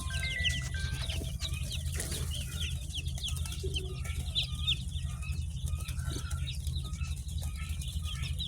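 Australian-breed chickens on a farm cluck and chirp continuously, many birds overlapping over a steady low hum, with occasional wing flaps.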